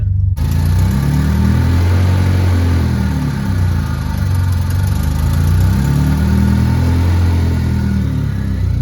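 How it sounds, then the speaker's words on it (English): A Honda Civic with a P28 engine idles after an OBD1 conversion, running without an intake air temperature sensor. It gives a loud, close, steady drone, and the idle rises and falls slightly as it hunts. "It's having some trouble figuring out its idle with no intake air temp"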